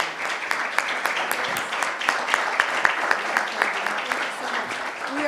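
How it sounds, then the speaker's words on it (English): An audience at a business roundtable claps for panelists, a moderately dense round of applause with distinct individual claps standing out, continuing steadily throughout. "let's give a round of applause to our panelists."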